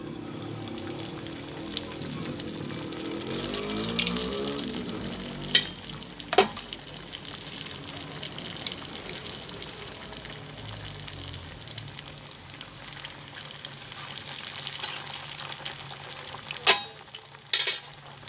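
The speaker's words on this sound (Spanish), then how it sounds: "Y seguimos friendo las empanaditas." Chicken empanadas frying in hot oil, a steady broadband sizzle with occasional louder pops and stirring clatters, heard close and alone without talk.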